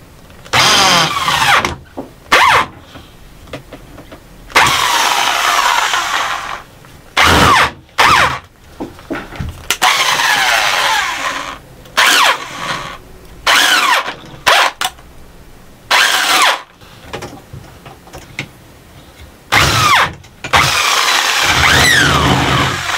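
An angle grinder with a disc cuts holes in metal in a makeshift step-drill setup, loud harsh grinding in repeated short bursts separated by brief pauses.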